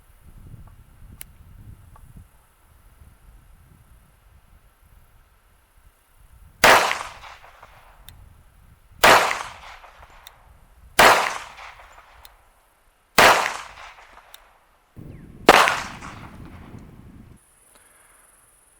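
Five sharp, loud gunshots from a Remington R1 1911 pistol ring out about two seconds apart, each with a short decaying tail, after a stretch of quiet low background rumble.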